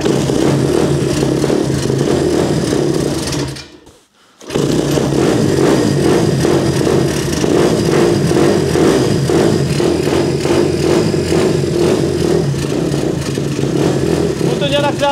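A small engine roars loudly and steadily with the throttle held open, dropping briefly to near silence before surging back. Voices talk over the running engine.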